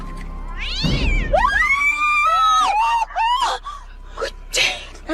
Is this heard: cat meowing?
yes